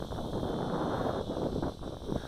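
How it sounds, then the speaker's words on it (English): Wind buffeting a microphone outdoors during a Tarantula Spider 1505 drone flight, a loud continuous rumbling roar with gusty swells and no voices. "that wind is picking up"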